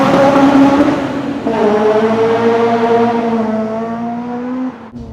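A mapped Honda Civic Type R EP3 with a 3-inch Solid Fab exhaust launches hard under a bridge, its loud engine note climbing steadily in pitch through a long pull, with a brief break at a gear change before the sound cuts off.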